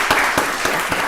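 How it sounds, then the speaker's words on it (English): Audience applause at a county board of commissioners meeting, a brief burst of steady clapping filling the room, close and moderately loud with no talking. "give Ms. Chester another round of applause."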